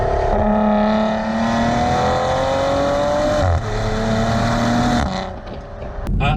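A 2019 Maserati Quattroporte Granlusso S driving, its engine droning steadily up through the gears with rising tone and a brief dip around a shift, loud and close throughout with no talk.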